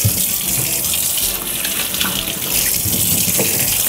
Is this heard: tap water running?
yes